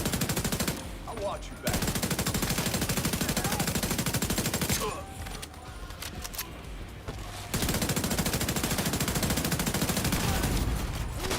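Automatic turret fire in The Division 2 shooter game rattles in long, rapid, loud bursts with brief pauses between them. A player speaks briefly over the shooting.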